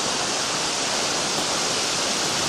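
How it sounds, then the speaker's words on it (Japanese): Steady, dense roar of the Biwa waterfall near Kazurabashi bridge, a hidden spot in the hills, heard close up as a continuous wash of falling water with no voices. "琵琶の滝、こちらにあります。"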